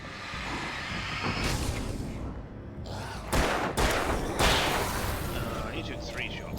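Enemy gunshots in the game Alan Wake, several sharp, loud cracks in quick succession over a noisy, rumbling background, with a voice talking in places.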